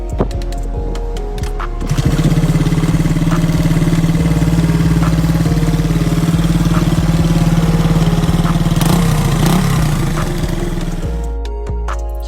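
A 100cc Honda CB100 motorcycle engine idles steadily with a low, even putter, loud and close, running continuously for most of the clip with no voices.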